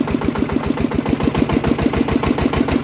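An RT140 engine upgraded to 155 runs on a test, close up, with a fast, regular chugging beat that stays steady throughout.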